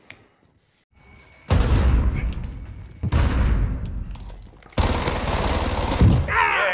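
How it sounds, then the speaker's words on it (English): Heavy gunfire from Call of Duty Warzone, Kilo rifle and SP-R in play, erupts in three loud sustained bursts of rapid shots and booms, close and dense, separated by brief breaks. "I'm taking fire!"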